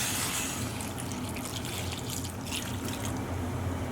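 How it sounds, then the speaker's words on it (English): Cold water runs from a tap into a pot of cut potatoes, giving a soft, continuous rushing splash at low level with no other sounds. "next we're going to top this up with cold water"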